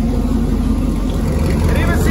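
A Caravan minivan fitted with a turbocharged LS V8 idles steadily up close, a loud continuous low rumble with no pauses.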